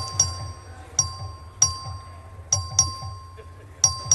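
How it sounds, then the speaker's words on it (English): A bright bell rung for a legislative vote chimes repeatedly in quick, uneven strikes over a low rhythmic hum, each ding ringing briefly before the next. "The clerk will ring the bell."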